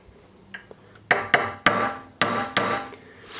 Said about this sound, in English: you can take your cutting chisel again and you go down the line and you just hit it very steep